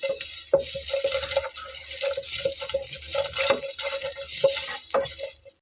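Mustard seeds dry roasting in a pan, stirred continuously with a utensil: steady scraping and soft rattling with small crackles and clicks throughout, close and moderately loud, no voices.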